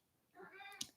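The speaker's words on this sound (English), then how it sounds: "So, that's my cat" Franklin, a pet cat, gives a single short, faint meow that ends in a soft click, close but quiet in an otherwise still room.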